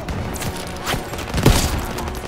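Dense suppressive gunfire during a World War II battle in Call of Duty WW2, a steady rattle of mixed shots with a heavier thud near the middle, continuous and fairly loud.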